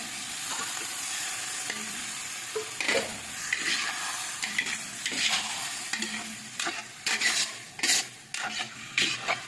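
Chicken sautés in a hot pan under a constant sizzle. Repeated scraping stir strokes and light metal clatter from a spatula build toward the end, close and clear.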